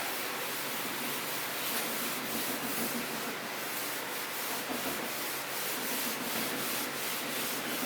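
A wooden table surface being rubbed down before dough is worked on it, a steady close scratchy rubbing with rhythmic back-and-forth strokes that runs unbroken throughout, with no talking.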